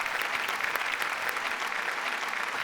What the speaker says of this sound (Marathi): बाबांसाठी एकदा जोरदार टाळ्या.